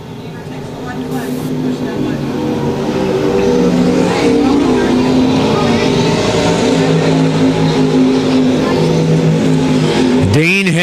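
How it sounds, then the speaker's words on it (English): USRA stock cars pulling away together in a heat race at Lakeside Speedway, a loud sustained roar of several engines climbing in pitch and droning on, with one car whining past up close near the end. "Pulling away now in heat number 4 of our USRA stock car action."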